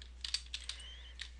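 Quiet computer keyboard typing of Java code, a handful of light, irregular key clicks in quick bursts over a low steady hum.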